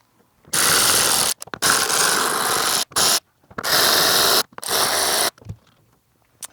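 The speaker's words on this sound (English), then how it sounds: "Now we could unbolt the screws." Ratcheting wrench clicks loosening tail light screws on an NA Mazda Miata, in four close, loud bursts of rapid pawl clatter separated by short pauses.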